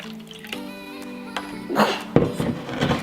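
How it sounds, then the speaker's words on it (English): Water pours and drips into a mold for making ice circles, a short burst of splashy trickling over a tonal ringing background, fairly close. "Now I'm going to pour some into my mold so it'll be even."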